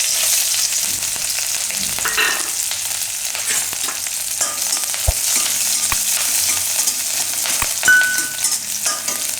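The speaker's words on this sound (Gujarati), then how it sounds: "તો તેલ આપણું ગરમ થઈ ગયું છે. એમાં આપણે નાખીશું લીમડો અને મરચાં." Curry leaves and green chillies sizzle loudly in hot oil for a Gujarati green chickpea chaat, a dense close crackle with scraping stirs and a few sharp spoon taps, and no voices.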